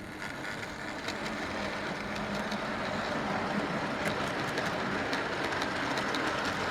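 Model railway train in a loft layout, pulling a siphon wagon and brake van over freshly cleaned rails, runs with a steady continuous rumble and faint rhythmic clicking over the track, close and even throughout.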